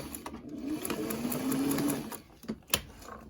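A sewing machine stitches a cloth face mask in a quick buzzing run lasting about two seconds, then stops, followed by a couple of sharp clicks and taps.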